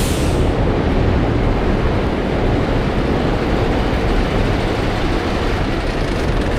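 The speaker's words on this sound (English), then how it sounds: "That's a train on the Manhattan Bridge." A train crossing the Manhattan Bridge in New York City, a loud continuous low rumble and roar that stays steady throughout with no voices over it.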